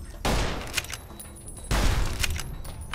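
Two loud gunfire volleys aimed at a scorpion in Fallout: New Vegas, each a sharp blast with a decaying tail and a few smaller cracks following.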